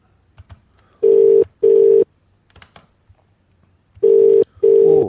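Outgoing telephone call ringing out during a telecanvassing session: four loud, steady ring tones arrive in pairs of two, separated by a short gap of near-silence and faint clicks, with no talking.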